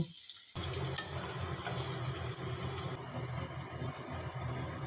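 Onions and marinated chicken frying in a pan, a steady close sizzle that starts suddenly after a brief quiet and continues evenly throughout.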